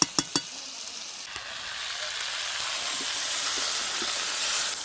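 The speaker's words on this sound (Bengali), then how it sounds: "এবার আমি জল দিয়ে দেবো।" Water is poured into a pan of fried potato, eggplant and bori curry: a few sharp clunks at first, then a rising, steady hiss of bubbling and sizzling close by.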